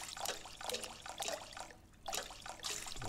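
Water pours into a mixing bowl in Bakery Simulator, a soft splashing trickle in short uneven bursts with a brief pause partway through, fairly quiet.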